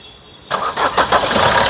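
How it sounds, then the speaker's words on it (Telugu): A 2016 Maruti Suzuki Ertiga ZDI diesel engine turns over and catches on a single crank, jumping from near-silence to a loud, close, rough running rumble. "ఒకసారి ఈ కారు ఇంజన్ స్టార్ట్ చేసి చూపిస్తాను"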